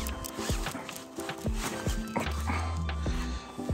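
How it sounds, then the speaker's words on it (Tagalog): A dog moves nearby outdoors in the cold, giving a few short sounds over shuffling steps and background noise during a brief stretch. "Yung aso ko."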